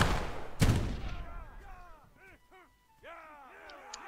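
Musket volley in Prime & Load 1776, a loud crack of massed gunfire up close followed by echoing reports and whistling, fading tails as the smoke clears.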